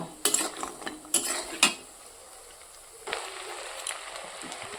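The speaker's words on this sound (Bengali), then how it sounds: "এবার আমি কড়াইতে দিয়ে দিয়েছি তেল আর দিয়ে দিয়েছি ডালের বড়া" Lentil fritters fry in hot oil in a wok, giving a continuous sizzling hiss broken by a few sharp metallic clinks of a utensil against the pan early on, close and moderately loud.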